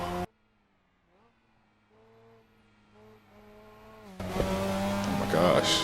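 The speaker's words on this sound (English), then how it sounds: "Just hopped in the car and started driving." A tuned Mazda RX7 accelerates, its engine note climbing in steady steps through several gear changes, then turns abruptly louder and rougher for the final seconds with a harsh, strained edge.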